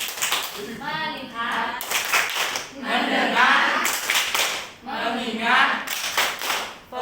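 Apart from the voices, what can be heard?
rhythmic hand clapping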